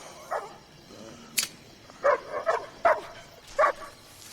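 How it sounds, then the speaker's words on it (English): A loyal dog in the film I Am Legend barks and whimpers in short, sharp bursts, a handful of yips and whines spaced across a quiet, low background. "What a loyal freaking dog."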